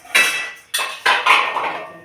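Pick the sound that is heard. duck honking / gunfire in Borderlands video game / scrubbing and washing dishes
scrubbing and washing dishes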